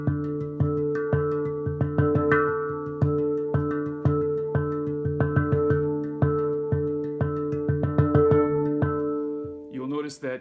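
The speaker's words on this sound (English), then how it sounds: "Now let's put this together with the triplets and you'll get a pretty cool rhythm going." A handpan plays repeated notes in a steady triplet pattern with accented strikes, each clear metallic tone ringing into the next, played alone and close.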